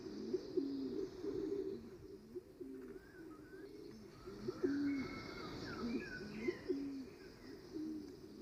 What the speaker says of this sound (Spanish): atraen a la paloma rabiche, una de las aves más interesantes y esquiva de las que habita en la caldera